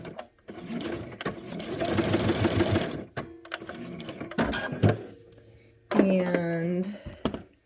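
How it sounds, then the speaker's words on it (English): A sewing machine stitching bias tape binding down runs in steady mechanical bursts, stopping and restarting several times, with close, fairly loud whirring and a brief pause between runs. "I'm just going to sew this down all the way."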